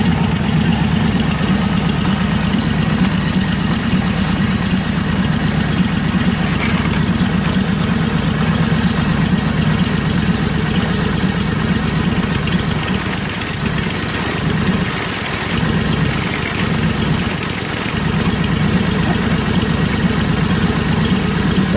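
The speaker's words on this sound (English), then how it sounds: "Remember, I told you, this has got a Dave Captain motor." A 1947 Harley-Davidson Knucklehead motorcycle with a Dave Captain motor, running for the first time since 2013, idles loud and steady up close with an even low throb.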